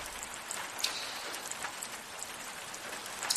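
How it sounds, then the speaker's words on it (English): Steady rain pattering on a surface, an even hiss of drops with a few sharper splashes close by, continuous and alone with no voices. "That rain sounds so nice."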